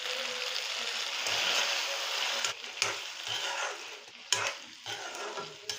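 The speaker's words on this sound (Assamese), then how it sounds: "এই আইটেম মোৰ ফ্ৰাই কৰা প্ৰায় হৈয়ে গৈছে" Spicy cauliflower stir-fried with green chili sauce, tomato sauce and soy sauce in an Assamese recipe, giving a loud close sizzle broken by repeated scraping clatters of a spatula stirring against the pan.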